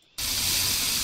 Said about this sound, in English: Spray, get the bottle of spray.